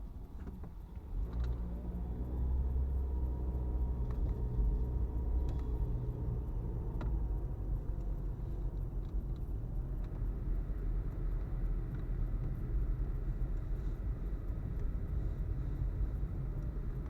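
Steady low engine rumble of a car creeping at about 20 km/h behind a slow city landscaping-works vehicle in Montreal winter traffic, continuous and close with no talk.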